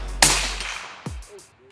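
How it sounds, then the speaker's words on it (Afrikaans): A single sharp gunshot from a .225 semi-automatic rifle fired outdoors cracks loudly and decays, followed by a fainter thump and a few brief clicks. "Watse gewere gaan ons skiet vandag? 225 semi-auto halgeweer."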